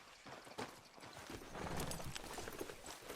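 Horse hooves clip-clopping in Red Dead Redemption 2, a brisk rhythmic series of close hoof strikes on the ground, fairly quiet and continuous.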